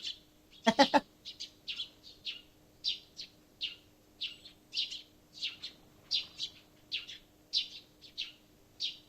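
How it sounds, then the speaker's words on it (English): Birds chirp in a video game in short, repeated bursts against a quiet background, with a steady faint hum underneath and one louder call near the start. "The sound of birds, the worst sound in the world."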